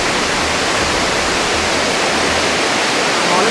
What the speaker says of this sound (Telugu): ఒకసారి ఈ వాటర్ ఫాల్స్ ఏ విధంగా ఉందో చూసేయండి మీరు కూడా